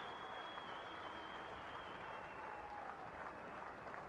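Small crowd of cricket spectators at a Sri Lanka versus South Africa match applauding a shot, a faint, steady patter of clapping lasting several seconds under a thin high tone.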